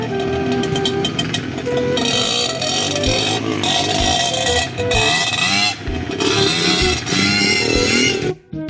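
A motorcycle at a flat race event runs loud and close, revving repeatedly in rising, roaring bursts with brief dips between throttle blips, then cutting off abruptly at the end.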